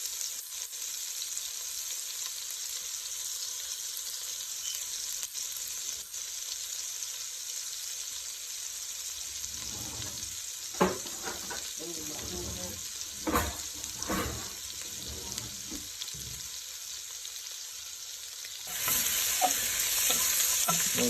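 Butter and olive oil heat in a pot before a pot roast goes in, giving a constant bright sizzle. Partway through, a few clanks and scrapes of a utensil break through, and the sizzle swells louder near the end.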